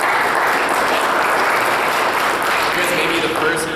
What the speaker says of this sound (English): First group that I've ever had clap for me.